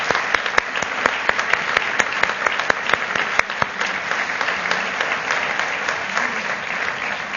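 A seated crowd at a municipal urban commerce awards ceremony claps warmly, a steady wash of applause with sharper individual hand claps popping out near the start before it gradually thins.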